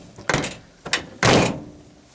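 The damaged door of a 1982 Dodge W100 short-bed pickup is swung into its frame three times, two sharp metallic thuds followed by a heavier, longer clunk, close and loud.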